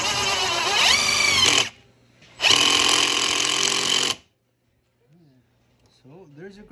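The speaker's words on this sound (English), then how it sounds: "I'm gonna take my drill. I'm gonna use 1/2-inch self tappers," A power drill drives half-inch self-tapping metal screws while installing heated hand grips on a 2017 Arctic Cat VLX 700, whirring in two sustained bursts with a short pause between, followed by quiet and faint background voices.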